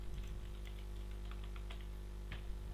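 Quick, soft clicks of a computer keyboard being typed on during a computer skills lesson, a steady run of keystrokes, close but faint over a constant low hum.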